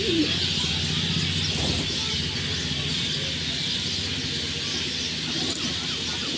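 Dobaj jiria pigeon cooing low and steady in a loft, mostly buried under a constant broad hiss and hum, with a few soft murmurs and no clear single calls.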